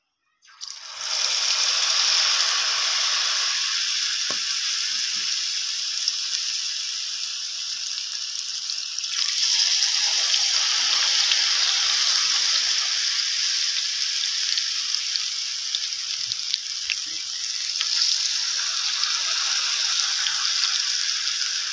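Cabbage and potato pakoras fry in hot oil with a loud, steady sizzle. The bubbling hiss swells as the batter goes in and then holds close and continuous throughout, with no talking.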